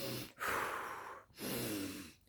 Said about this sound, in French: Exercice de respiration.